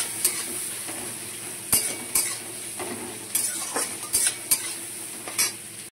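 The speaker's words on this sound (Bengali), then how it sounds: "এবার পেঁয়াজগুলোকে ভালো করে ভেজে নেবো লাল লাল করে" Onions fry in oil in a pan with a constant soft sizzle, broken by repeated scraping and clinking of a metal spoon stirring against the pan.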